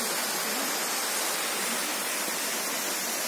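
Hirni Waterfall in Jharkhand pours in a dense, steady roar of falling water, a broad unbroken rush with no voices over it.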